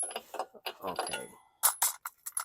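Metal sockets clink and rattle as they are picked from a socket set while working on a 2016 Toro Recycler lawn mower, a quick series of close, sharp clicks and scrapes.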